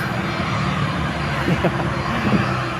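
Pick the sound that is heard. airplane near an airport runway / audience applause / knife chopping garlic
airplane near an airport runway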